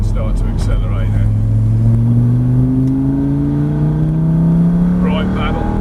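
Lamborghini Gallardo accelerating on a race track, its engine note climbing steadily in a smooth continuous rise, loud and close, with a person talking over it near the start and end.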